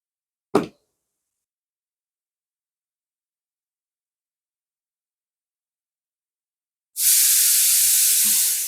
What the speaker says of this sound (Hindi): कुकर की सीटी की वॉइस आ रही है